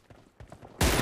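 A single loud, sharp M24 sniper rifle shot in a video game cracks out near the end after a quieter stretch of faint game sounds.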